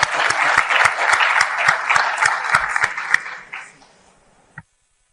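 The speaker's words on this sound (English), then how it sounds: "a round of applause for our contributors" An audience at a conference panel session applauds its contributors with steady, dense clapping that fades out after a few seconds, followed by silence and one brief thump.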